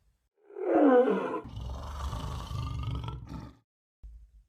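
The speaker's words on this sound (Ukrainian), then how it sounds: "Лев." A lion roars once, loud and close: a rising bellow that trails into a long, rumbling growl and ends with a brief low grunt after a short pause.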